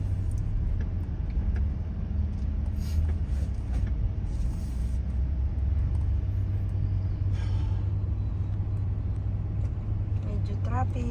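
Inside a car creeping through slow night traffic in Karama, a continuous deep engine and road rumble drones steadily, with occasional faint rattles and passing noises on top.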